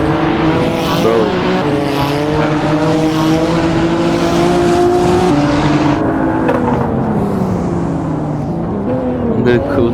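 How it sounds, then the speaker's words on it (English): Car engine roaring in an Assetto Corsa drag race video game, an Audi RS6 Performance among the racers, with sustained loud revving and tyre squeal from a burnout, steady and close throughout while a voice talks over it. "He's gonna burn his tire."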